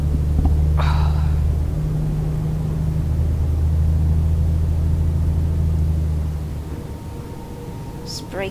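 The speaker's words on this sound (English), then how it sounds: "It's braking for me with the retarder, which is nice." In Euro Truck Simulator 2, a heavy truck slows on its retarder while running on cruise control, giving a steady, loud low drone that holds for several seconds and then eases off, with a couple of faint higher blips.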